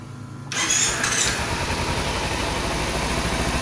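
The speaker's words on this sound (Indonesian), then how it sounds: "jom kita test hidupkan dia" A Kawasaki Z250 Ninja 250 motorcycle engine cranks and fires up after starter relay work, catching abruptly with a loud burst and then settling into a steady, close idle rumble.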